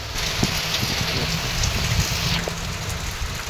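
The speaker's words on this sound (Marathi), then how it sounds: "पाऊस किती मोठा चालू झाला आहे" Steady, heavy rain pours down in a dense, continuous roar with drops spattering on surfaces, no voices.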